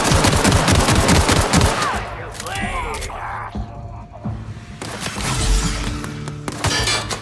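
Rapid gunfire from The Outer Worlds video game rattles loudly in dense bursts, fading into mixed game effects and returning later, with a voice speaking over parts of it.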